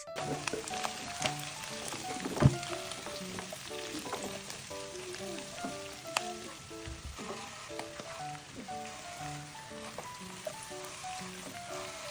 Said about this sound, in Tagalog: ilalagay ko na yung bawang at sibuyas